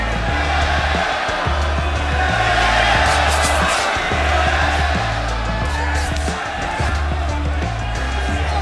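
A large crowd of Mexican boxing fans at a Donaire vs Nishioka fight roars steadily throughout, a dense, continuous wall of cheering and shouting with a deep low rumble underneath.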